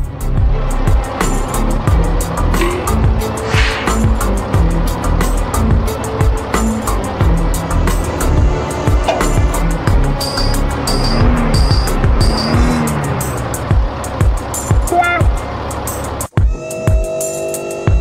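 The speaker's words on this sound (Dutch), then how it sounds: "We starten de tractor." A tractor engine starts and runs, a loud continuous mechanical drone with rising and falling whine as the revs change, close by, cutting off abruptly near the end.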